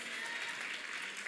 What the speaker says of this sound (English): I think it's a good place to clap our hands.